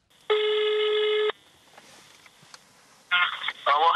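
A telephone call to a company director, with a steady ringback tone lasting about a second, a quiet pause, then bursts of dialing and connection tones; no talk.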